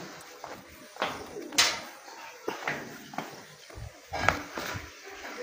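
Pigeons coo softly on a rooftop in Punjab, with a few low calls spread across the moment. Light footsteps and faint scuffs sound in the background, and no one speaks.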